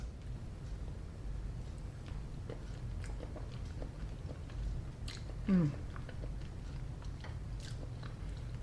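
Someone bites into eggplant parmesan gratin with tomato sauce and chews it. Soft, close mouth and utensil sounds come in small clusters, with a brief clink midway, over a faint low room hum.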